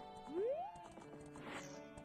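A horse in a Zelda video game gives a rising whinny, followed by a brief stretch of game sound that may include galloping.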